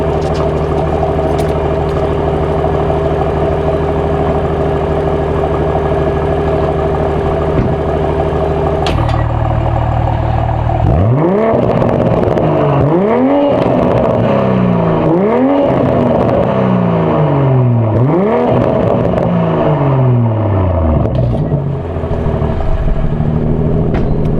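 A BMW M340i with a muffler delete idles with a deep droning exhaust, then revs repeatedly in sharp rising bursts, loud and close, each rev dropping back between pulses.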